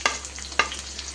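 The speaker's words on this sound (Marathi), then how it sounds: "तर इथे सुरुवातीला आता कढीपत्त्याची पानं घालतोय।" Curry leaves hit hot oil with onion in a pan for poha, giving two sharp crackling bursts over a soft, steady sizzle, heard up close with no talking.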